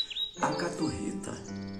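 Monk parakeet chirping: a short run of bright, squeaky tweets and harmonic calls, close and clear, lasting under two seconds with a voice-like quality mixed in.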